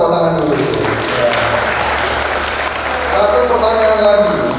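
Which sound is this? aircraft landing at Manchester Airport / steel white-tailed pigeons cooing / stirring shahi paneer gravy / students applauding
students applauding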